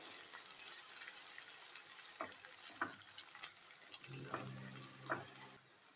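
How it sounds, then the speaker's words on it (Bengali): Steady sizzle of eggs scrambling in a frying pan, with a few scraping stirs of a spatula, moderately loud, no talking. "ডিমটাকে এরকম ঝুড়ো ঝুড়ো করে ভেজে নেব"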